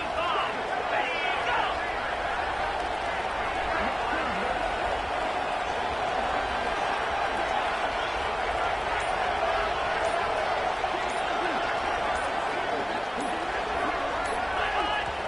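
Dense, steady roar of a packed football stadium crowd at a high-stakes fourth-down moment, a loud wash of cheering and noise holding constant throughout with no pauses.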